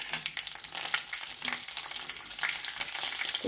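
Mustard seeds and green chilli slits crackling in hot tempering oil, a dense continuous sizzle with sharp spattering pops, close and fairly loud, no talking.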